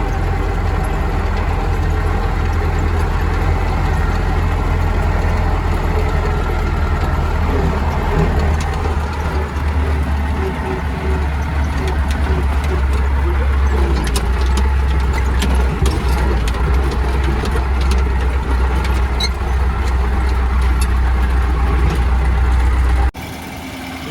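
A farm tractor engine runs steadily at idle in a soybean field at harvest, a deep continuous rumble close by that stays loud for the whole stretch, with no talking.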